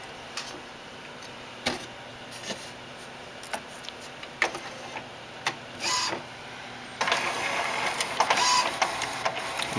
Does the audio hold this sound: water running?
no